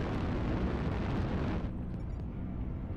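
An enemy mech blowing up after being destroyed in the MechWarrior Online video game, a loud, sustained roaring blast that rumbles heavily and eases off slightly toward the end.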